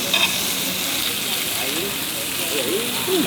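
Giant river prawns for tom yam sizzle and crackle in a hot wok, a loud, continuous frying hiss with bubbling pops, while a voice talks over it.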